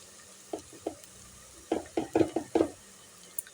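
Masala paste of ginger and shallot stirred into lightly browned onions in a pan for bendakaya pulusu, giving a series of short sizzling, scraping bursts as it is moved around, fairly close and alone with no talk.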